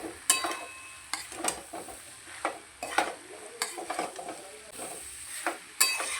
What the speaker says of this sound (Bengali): আলুটা দিয়েও একসঙ্গে আবারও খুব ভালো করে কষিয়ে নেব